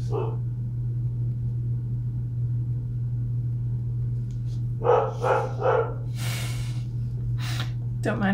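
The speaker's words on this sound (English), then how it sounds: "Don't mind my dog. He likes to talk." A pet dog at home makes a few short, close snorting and grumbling vocal bursts over a constant low electrical hum, coming in a quick run of three and then a couple more, with no one speaking.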